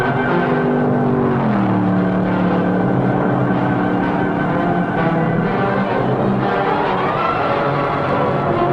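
Race cars roar around the track at the 1962 Daytona 500, a loud continuous engine drone with pitch shifts as cars rev and pass, sustained throughout.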